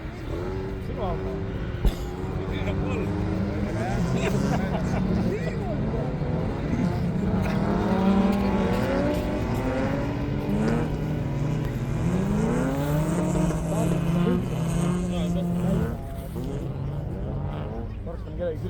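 A race car engine drones and revs during a race, with the pitch rising and falling through gear changes over a steady roar, while a commentator talks over it throughout.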